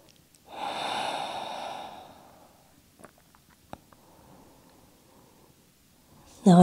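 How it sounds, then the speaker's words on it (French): A long, breathy exhalation during a yoga session, loud and drawn out over about two seconds, followed by quiet with a few soft ticks and faint rustle, then a sharp burst at the very end. "je reste un petit peu avec des respirations bonus"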